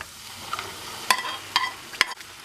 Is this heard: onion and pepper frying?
yes